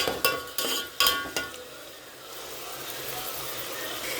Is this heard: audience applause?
no